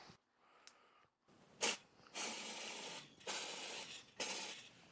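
Cleaner hisses through a BEEST spray foam gun in several short bursts of spray, near and moderately loud, separated by brief pauses with faint clinks.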